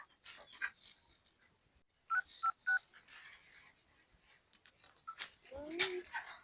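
A telephone number is dialed, a quick series of several clear keypad tones in close succession, with talking before and after and some faint background sounds.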